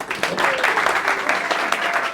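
An audience at a talk applauds the speakers in a short burst of clapping, with voices faintly mixed in.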